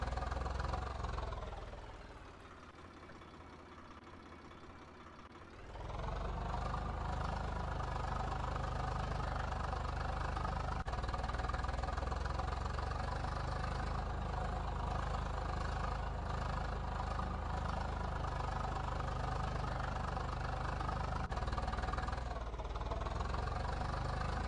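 A Swaraj 855 tractor engine in Farming Simulator 22, idling low and steady. It drops quieter for a few seconds near the start, then holds a strong, constant rumble with no talk over it.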